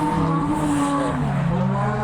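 A Toyota Chaser engine revs and drones steadily nearby, its pitch shifting slightly as it moves past, with faint crowd chatter underneath at a track day in Japan.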